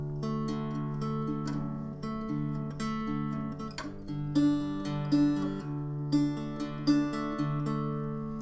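Close, clear acoustic guitar playing the second part of the intro to a song, the same chord shapes picked in a different pattern, a steady run of ringing notes with no talking.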